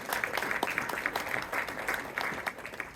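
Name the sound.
audience applause at city council meeting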